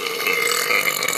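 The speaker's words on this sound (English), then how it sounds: "And burping." A character in the video game Skyrim lets out a long, rough burp lasting about a second, loud and close.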